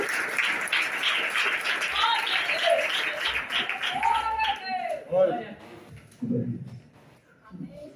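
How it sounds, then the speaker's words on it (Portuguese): A church congregation clapping, dense applause at first with voices and shouts rising over it, then tapering off as a speaker's voice takes over. "palmas e glória a Deus"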